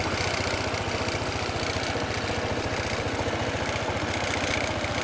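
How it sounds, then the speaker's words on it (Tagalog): A matte black Honda ADV 160 scooter idles just after a cold start, a steady close-up mechanical thrum with a fast, even low pulse and a rough vibrating quality, continuous and unbroken throughout. "cold engine start"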